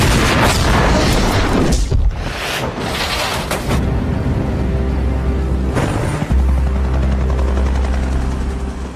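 A loud helicopter thrums close by, with heavy booming blasts and a deep roar of explosions that rumble on beneath the rotor noise.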